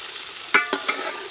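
Chicken cooks with chopped tomato in a pot for biryani, giving a soft, steady sizzle with three quick scraping stirs of a spoon close by.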